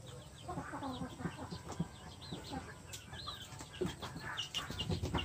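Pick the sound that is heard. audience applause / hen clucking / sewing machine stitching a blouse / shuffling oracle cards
hen clucking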